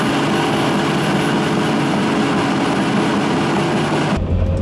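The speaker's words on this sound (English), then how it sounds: "the engine in this Komatsu is built by Cummins" A Cummins-built engine in a Komatsu D71 bulldozer runs at a steady, loud, droning idle that cuts off abruptly near the end.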